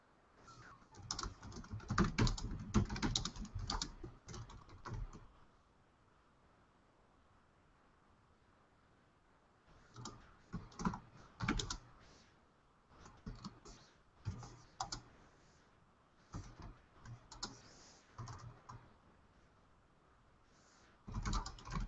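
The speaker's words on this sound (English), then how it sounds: "I'm on a laptop, so I may be typing" Fingers tap out bursts of keystrokes on a laptop keyboard, close and crisp, in several separate runs broken by quiet pauses.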